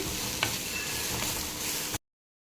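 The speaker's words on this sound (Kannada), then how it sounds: "ಇದಕ್ಕೇನೆ ನಾವು ತೊಳೆದಿಟ್ಟಿರೋ ಸಿಗಡಿ ಮೀನನ್ನು ಹಾಕಿ ಇದನ್ನು ಕೂಡ ಅದರ ನೀರು ಹೋಗುವವರೆಗೂ ಸ್ವಲ್ಪ ಚೆನ್ನಾಗಿ ಫ್ರೈ ಮಾಡಿ." Washed dried prawns frying in a pan, a dense continuous sizzle close up, steady and even throughout with no talking, ending abruptly.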